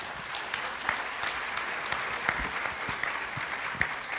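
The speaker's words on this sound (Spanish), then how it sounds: "Lo recibimos con un fuerte aplauso." Applause from a seated audience at an expert panel discussion, a steady even wash of clapping throughout with occasional louder individual claps standing out.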